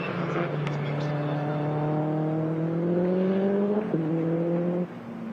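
A Subaru WRX race car's boxer engine on a flying lap at a time attack event, a steady loud drone climbing in pitch as it accelerates, with a brief gear-change dip near the end.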